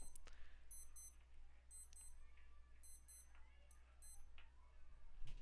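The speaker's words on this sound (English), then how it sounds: "my alarm keeps going off" Repeating electronic alarm beeps in short high-pitched bursts of two or three, going off at regular intervals, with someone talking over them amid a low steady hum.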